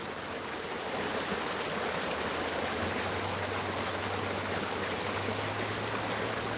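Water in McMillan Creek rushes steadily over rocks, a dense, even, close wash of river flow with no voices.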